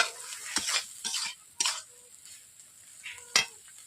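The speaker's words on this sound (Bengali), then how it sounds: "4 মিনিট নেড়ে নিচ্ছি।" Malabar spinach (pui shak) is stirred in a pan with a little water, giving several soft scraping strokes and brief wet sizzles spaced about half a second to a second apart, close and fairly quiet.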